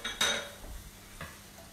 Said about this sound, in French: Maintenant, on va rajouter donc les tomates qu'on vient de couper.